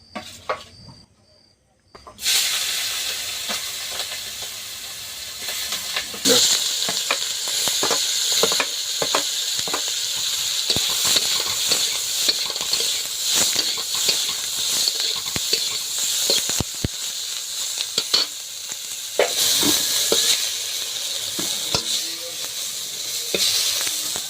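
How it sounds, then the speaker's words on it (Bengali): Prawns frying in a pan give a loud, steady sizzle and hiss that begins abruptly after a short quiet start and carries on continuously, with occasional crackles and scraping stirs. "চিংড়ি মাছগুলো এবার ভেজে নেবো"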